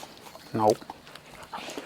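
A short, low, harmonic grunting snort from a dog, piglike and close, heard once amid quiet background shuffling.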